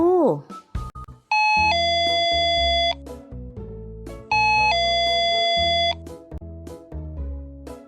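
A doorbell chimes twice in a ding-dong pattern, each chime ringing out clearly over a short burst of voice and a light musical background.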